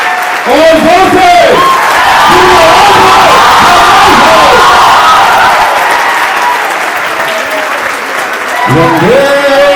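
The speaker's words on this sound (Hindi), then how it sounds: "हमारा समर्थन, हमारा पुरजोर समर्थन जोरदार तालियों के साथ" Loud, sustained applause and cheering from a large audience at a college tribute event in Patna honouring the Indian Army, continuous clapping filling the room while voices call out over it.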